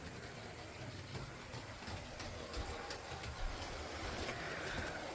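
A model railway train runs on a home layout after being restarted from the throttle, giving a steady, faint mechanical rumble and rail noise with no talk over it.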